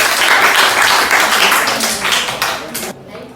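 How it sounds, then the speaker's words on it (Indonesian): A classroom of high school students in a biology lesson claps for a presenting group, loud dense clapping that thins out and stops abruptly near the end. "kita berikan aplaus untuk kelompok 4"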